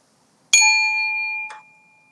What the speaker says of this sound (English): At the sound of the bell, take a deep breath.